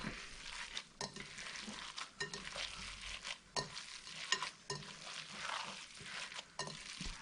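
A courgette stuffing mixture is stirred roughly in a bowl, giving steady wet scraping and squelching with irregular spoon knocks throughout, close and fairly quiet.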